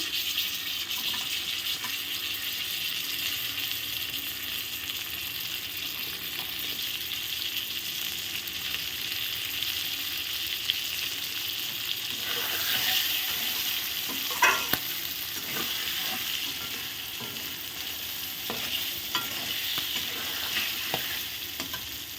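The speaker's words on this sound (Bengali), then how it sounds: "একসাথেই আমি ভেজে নেব সুন্দর করে। এর মধ্যেই আমি দিয়ে দিব মটরশুঁটি," Vegetables and peas frying and being stirred in a pan with a steady, soft sizzle throughout, and occasional scraping and clattering from stirring in the second half.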